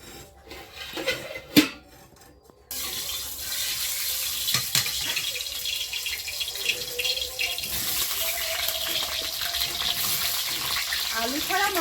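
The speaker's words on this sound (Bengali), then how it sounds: "কড়াইয়ে তেল দিলাম মাংসটা চাপিয়ে দেবো তার আগে আলু ভাজতে হবে" Potatoes fry in oil in a wok with a loud, steady, hissing sizzle that starts suddenly after a few quiet seconds and continues without a break.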